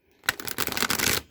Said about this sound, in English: So I'm going to give them a few extra shuffles.